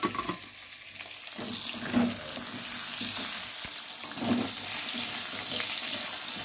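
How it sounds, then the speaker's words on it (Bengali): Potatoes fry in a pan of oil while cooking rohu fish, a continuous close hiss and sizzle with a few louder bursts of crackle as they are stirred. "দিয়ে এবার আলুগুলো একটু ভেজে নেব"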